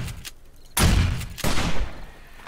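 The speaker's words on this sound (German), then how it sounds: "Ey, ich hab dir ins Bein geschossen, du kannst gar nicht mehr laufen, Junge." Gunfire in the zombie survival game 7 Days to Die during a day-21 horde night: two loud, booming shots about half a second apart, each ringing out and decaying, with no talking.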